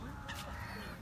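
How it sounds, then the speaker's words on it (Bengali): Ducks, geese and swans gather at a London park, and a brief honking goose-like call rises over a dense wash of nearby bird and park noise. "বিভিন্ন জাতের হাঁস"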